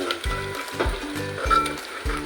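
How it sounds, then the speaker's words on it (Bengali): Onions fry in a pan with a continuous close sizzle, broken by a few low rhythmic thumps as the pan is stirred. "পেঁয়াজটা ভাজা হয়নি। একটু ভাজা হোক।"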